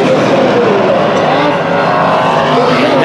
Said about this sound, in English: Eric Weinmiller takes the checkered flag in the second X-Mod heat race